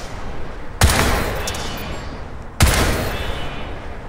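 Two bursts of rapid gunfire from the video game Crysis 3, each starting with a sharp onset and rolling into a dense, sustained rattle, loud and close.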